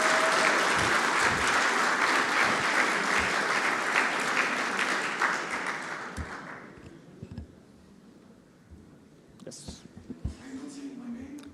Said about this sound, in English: So a big round of applause for University of Padova